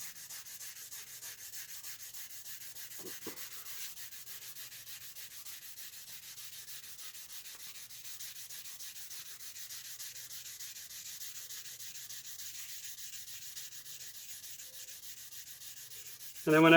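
Steady, quiet abrasive rubbing from sanding and polishing the frets of a 1982 Fender Japan Stratocaster, even back-and-forth passes running continuously, close up and alone, with a brief knock near the start.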